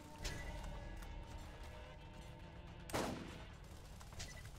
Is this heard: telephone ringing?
no